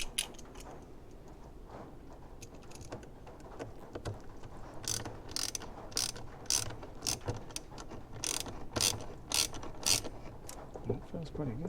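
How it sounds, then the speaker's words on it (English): A hand ratchet tightening bolts on a 4th-gen Camaro SS during an intake install: quiet handling at first, then clusters of close, sharp clicking pawl ticks in quick rhythmic bursts with short pauses. "I like to change to a hand ratchet because you don't want to overdo these things."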